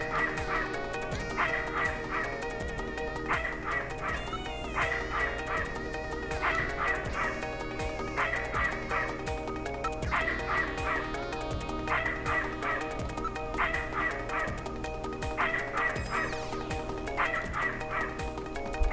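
Alice the dog barks repeatedly in the video game Snatcher, sharp yips recurring in a steady rhythm over continuous looping game music.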